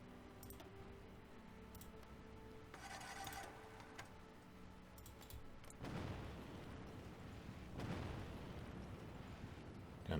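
Bombing raids on Tokyo in the strategy game Hearts of Iron IV, rendered as a low mechanical drone broken by several muffled, rumbling explosion bursts, two of them heavier, all fairly faint and with no talking.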